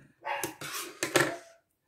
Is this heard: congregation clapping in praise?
no